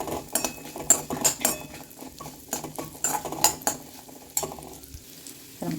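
A utensil scrapes and clinks against a pan as rice flour is stirred while dry-roasting, giving repeated close, irregular scraping strokes with a faint sizzle underneath.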